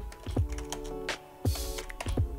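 Quick bursts of typing on a computer keyboard, close and crisp, with short runs of key clicks separated by brief pauses.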